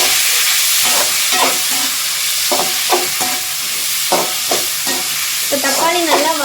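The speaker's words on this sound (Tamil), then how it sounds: "தக்காளி நல்லா வதங்கி அப்படியே எண்ணெய் பிரிஞ்சு வரும்." Three tomatoes sauté in oil for a vegetable biryani, a loud close sizzle with rhythmic scraping strokes of a ladle stirring the pan every second or so.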